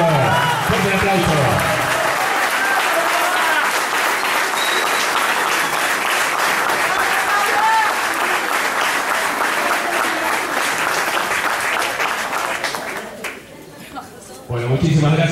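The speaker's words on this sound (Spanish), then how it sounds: "¡Fuerte aplauso!" A club banquet crowd bursts into loud, sustained applause for an Olympic gold medal champion, thick clapping mixed with cheers and chatter that fades near the end before a voice returns.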